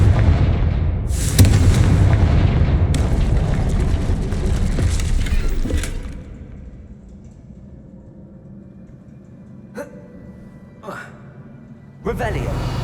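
Loud booming blasts from the Confringo fire spell in Hogwarts Legacy, played on Xbox Series X. They roll continuously for about six seconds, then give way to a quieter rumbling backdrop broken by a few sharp, isolated bursts near the end.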